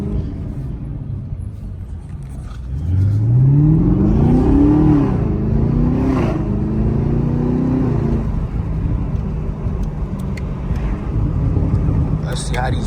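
A Chevrolet Camaro ZL1 1LE rumbles along a street, its engine note climbing in a rising rev sweep, then easing back into a steady, close cabin drone with faint background noise.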